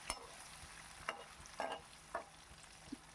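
Potatoes frying in oil give a faint, steady sizzle, broken by four or five soft scraping stirs spaced about half a second apart.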